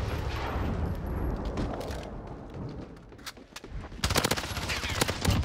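Rapid bursts of gunfire from the Modern Warfare video game, in a match with P90 submachine guns, crackle in dense volleys with a louder, closer cluster near the end.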